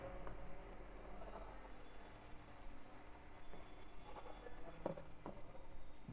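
Chalk or marker scratching across a classroom board as an English sentence is written, a steady faint rubbing with a few sharper strokes near the end.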